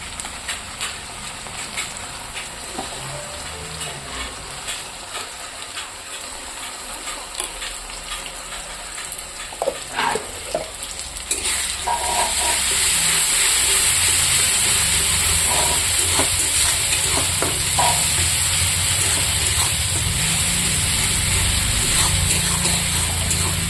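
Onions frying in oil in a pan make a sizzling hiss, with clinks of stirring as spices go in; the sizzle jumps sharply louder partway through and stays strong.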